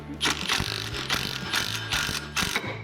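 A drive gear being pulled off a tapered shaft on a combine, with repeated loud mechanical ratcheting and grinding in an even rhythm of bursts, close by, no talking.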